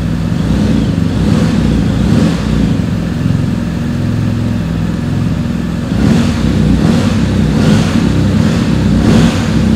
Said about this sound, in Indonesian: Coba kita geber dikit-dikit ya.